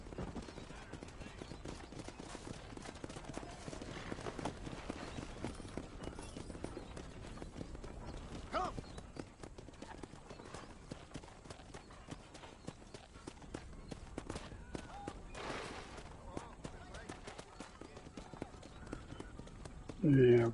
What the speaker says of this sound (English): here comes my horse.